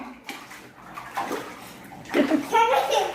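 Water pours and splashes in an inflatable pool on a balcony, sloshing in short surges that grow louder toward the end, while a child and an adult talk.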